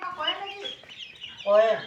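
Chickens cluck nearby in two short bursts, the second louder, with a quiet pause between.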